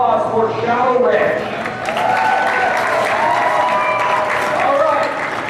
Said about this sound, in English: So a nice round of applause for Shallow Red.